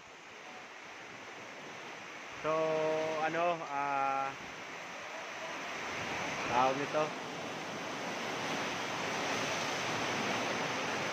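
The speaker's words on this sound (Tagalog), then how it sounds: "Grabe, lakas ng hangin." Strong typhoon wind roars as a steady broadband rush throughout, with someone speaking briefly over it near the start and another voice faintly later.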